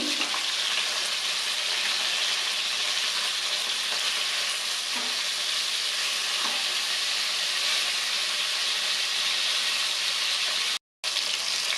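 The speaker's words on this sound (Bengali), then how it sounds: "এগুলো আমি হালকা করে ভাজছি।" Rohu fish pieces fry gently in a pan, giving a steady, even crackling sizzle close by that carries on almost unbroken, with a few soft clicks and a momentary cut near the end.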